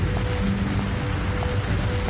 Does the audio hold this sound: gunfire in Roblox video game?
no